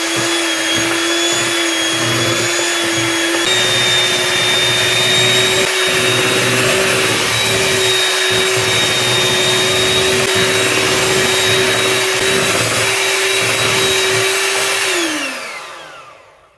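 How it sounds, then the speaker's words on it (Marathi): An electric beater whisks eggless nankatai biscuit mixture in a bowl, giving a steady, loud motor whine that holds for most of the time, then winds down and stops near the end. "तुमच्याकडे जर बीटर असेल तर बीटरने किंवा तुम्ही रवीनेही एकाच डायरेक्शनने फिरून मिश्रण आपल्याला अगदी हलका करून घ्यायचं"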